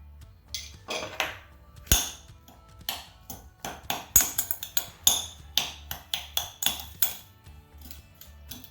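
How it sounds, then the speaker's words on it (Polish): A spoon stirs sugar into fresh yeast in a bowl for homemade pizza dough, giving a rapid series of close metallic clinks and scrapes against the dish, loud and irregular. "Mieszam cukier wraz ze świeżymi drożdżami."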